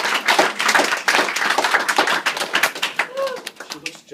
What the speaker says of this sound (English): So let's not hold your applause till all the names have been mentioned.